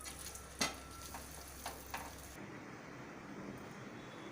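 Kadai paneer gets a quick stir in a sizzling pan: a few scraping strokes over steady frying noise, which cuts off abruptly halfway through, leaving only faint room noise.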